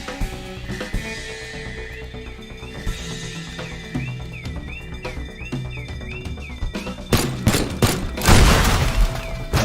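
Gunfire and an explosion in Teardown rise over a tonal, whining game backdrop, with sharp shots breaking in late and a loud, broad blast near the end.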